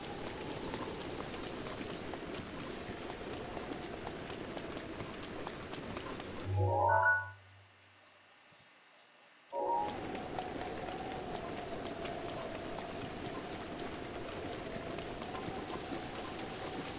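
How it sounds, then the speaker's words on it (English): Steady rain in Zelda: Breath of the Wild, a dense, continuous hiss that cuts out abruptly for about three seconds with a short game sound effect, then resumes just as strongly. "do I have to wait until it's not raining?"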